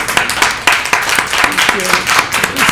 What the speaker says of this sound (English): let's just give them a really big hand